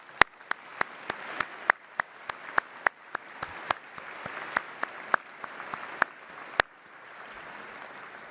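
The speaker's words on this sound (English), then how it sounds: "let's give these outstanding public servants a round of applause" Scattered, sharp claps from an audience at the 2024 Reagan National Defense Forum, a steady run of individual hand claps over a soft crowd murmur that stops near the end.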